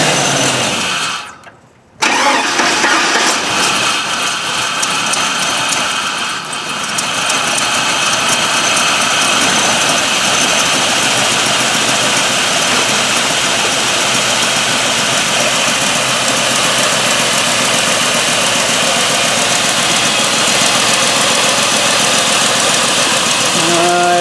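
An LS V8 idles steadily after an intake manifold replacement, a close, loud, continuous engine drone with a slight lope, following a brief dropout near the start.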